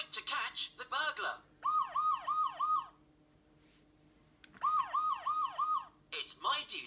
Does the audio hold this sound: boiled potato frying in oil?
no